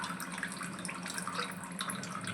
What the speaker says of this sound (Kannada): ನಮಗಿನ್ನೂ ನೀರು ಬೇಕಿಕ್ಕೆ ನೀರು ಹಾಕ್ತೀನಿ.